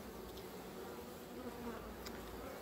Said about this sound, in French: Donc ces abeilles.